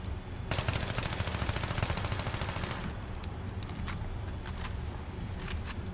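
Rapid automatic fire from an AEK-971 rifle fitted with a foregrip in Battlefield 3: a dense, loud sustained burst for about two seconds, then short scattered shots and bursts over a steady game background.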